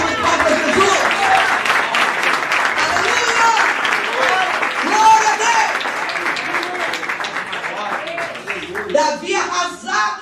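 A church congregation claps for Jesus during a festival service, with steady applause running under loud continuous talk and music, then sharper, more scattered claps near the end.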